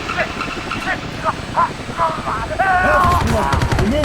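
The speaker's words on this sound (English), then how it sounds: "Hudson takes out some enemies with a turret until he gets hit off" Turret gunfire in the Call of Duty Black Ops campaign, with dense bursts of rapid shots over game effects and a voice speaking across the clip.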